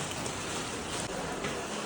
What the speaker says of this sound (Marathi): फुल जोरात पाऊस आहे